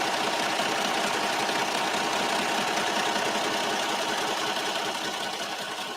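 A sewing machine stitching, a steady rapid mechanical whir and clatter that runs at an even rhythm throughout at close range, with no voices.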